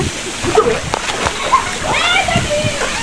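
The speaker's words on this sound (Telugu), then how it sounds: "వాటర్ ఫాల్స్లో ఎక్కువ వాటర్ లేకపోవడం వల్ల నార్మల్ వాటర్ ఉండడం వల్ల బాగుంది" Waterfall water splashes and sloshes nearby at low flow at Gandahati waterfalls, Odisha, while people, including children, talk and call out over it.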